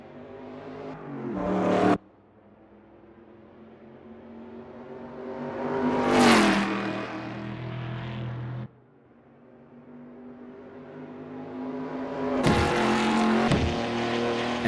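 A historic race car in Assetto Corsa heads out on an out lap at Imola 1972, its engine revving up and down through gear changes, loud and close with sharp cutoffs and a brief tire squeal near the end.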